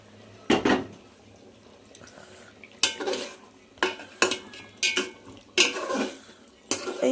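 Eggplant and taro root being sautéed in spice masala in a pot, with a series of loud, sharp clanks and scrapes of a spoon against metal at irregular intervals over a quiet background.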